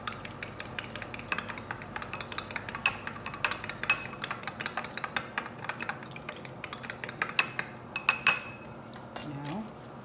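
An egg being beaten in a bowl, with a quick run of light clinks and taps from a utensil against the bowl, close and fairly soft, ending in a few louder knocks. No one speaks.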